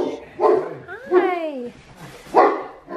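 A dog barks and yips in a few short bursts close by, with a whimpering, high-pitched edge. A person's voice speaks over and between the barks.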